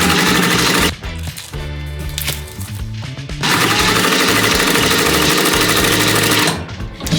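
A sewing machine runs in loud, steady bursts, stitching binding along the seam of a DIY bicycle frame bag, with a brief slowdown partway through before it resumes at full speed.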